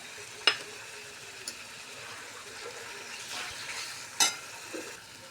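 Kala masala sautés in oil in a pan for a black pea amti: a soft, continuous frying hiss with a couple of sharp utensil clinks against the pan.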